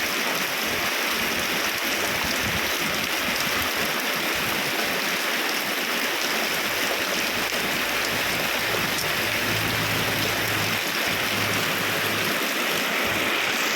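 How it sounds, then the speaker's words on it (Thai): Steady, heavy rain pours down continuously, the first rain of the year, a dense hiss of drops hitting surfaces with no voices. "ฝนตกหัวปีเด้อนี่เด้อ"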